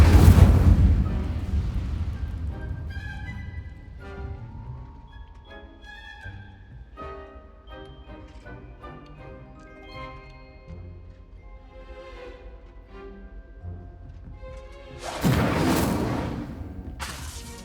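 Casting the Incendio fire spell in Hogwarts Legacy sets off a booming fiery burst at the start, then a quieter stretch of game effects, and a second loud rushing blast near the end.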